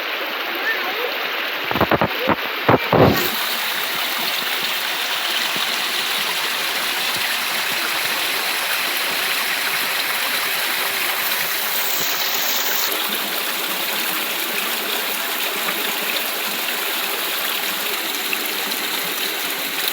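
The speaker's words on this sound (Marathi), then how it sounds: "हे बघा मस्तपैकी ओढ्याला आलेलो आहोत आणि तिथे छोटासा आपला धबधबा आहे" A small stream with a little waterfall makes a steady, close rushing and trickling wash that runs the whole time, with a brief burst of handling knocks early on and a faint high electronic tone at moments.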